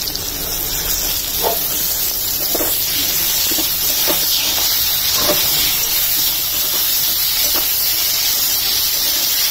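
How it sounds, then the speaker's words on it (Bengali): Cauliflower pieces dropped into hot oil over potatoes fried with salt and turmeric give a loud, continuous hissing sizzle that fills the whole stretch, with faint clatters of stirring underneath and no voices. "এখন ফুলকপি গুলো দিয়ে দিচ্ছি"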